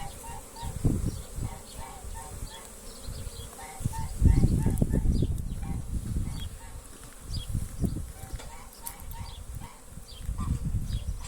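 Bees busily working at a hive and carrying in pollen, a continuous close buzzing drone with individual insects passing near, while someone talks quietly at intervals.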